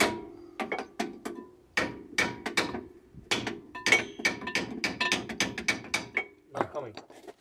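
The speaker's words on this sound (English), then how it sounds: "Now let's try to knock this bolt out." Hammer blows knocking a bolt out of the rear suspension of a 1959 Impala, a dozen or more sharp metallic strikes in irregular bursts, close and ringing, with no talk.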